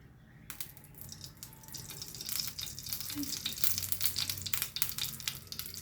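Ghee sizzling in a hot pan while making carrot halwa crackles and spits in irregular bursts that build in loudness, close and alone with no talking.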